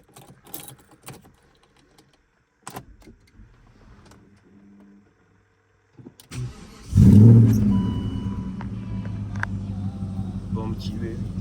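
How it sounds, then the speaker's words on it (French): A BMW 540i E39 V8 with its catalytic converters removed cranks and fires up after a few quiet clicks and taps, then settles into a loud, deep, steady idle rumble close by. "Je vais vous démarrer le moteur."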